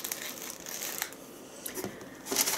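A plastic candy packet from Japan crinkles and rustles up close in short irregular bursts, with a sharper crackle near the end.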